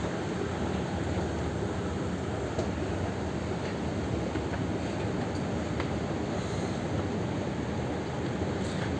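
A tram at a tram station in Qatar gives off a steady rumbling hum, a continuous dense rail drone with faint occasional clicks and no talking.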